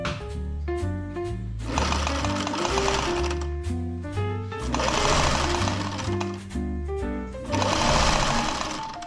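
A sewing machine stitches winter tent fabric in rapid mechanical bursts, running a couple of seconds at a time with short pauses between runs, loud and close.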